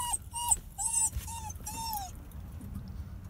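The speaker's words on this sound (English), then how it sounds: "Sad Crying Dog Part 2." A dog whimpers and cries in a string of high, wavering whines, five or six close bursts over the first two seconds, then only a low background hum remains.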